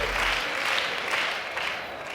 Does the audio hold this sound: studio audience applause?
yes